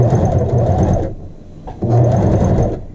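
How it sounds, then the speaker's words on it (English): A sewing machine runs an edge stitch along the back neckline facing of a child's shirt, a steady close mechanical whir that stops briefly in the middle and then starts up again. "We're still doing our edge stitch."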